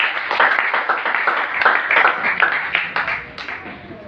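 A congregation claps for Jesus, many hands beating in brisk, fairly even rhythm for several seconds, close and lively, with no voices over the applause.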